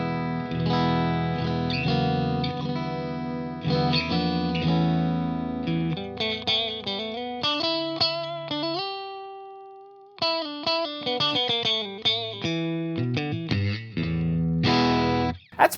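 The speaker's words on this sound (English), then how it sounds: "Our second position, I believe, is a combination of the bridge and the middle pickup, and it sounds like this." A Peavey Axcelerator electric guitar on the combined bridge and middle pickup setting plays an unbroken run of chords and single notes with some effects, with a sustained two-note passage partway through, loud and close, no talking.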